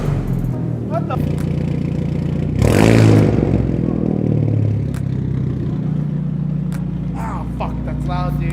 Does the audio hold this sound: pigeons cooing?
no